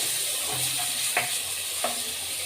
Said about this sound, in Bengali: এবারে আমি একটুখানি নেড়ে চেড়ে নিচ্ছি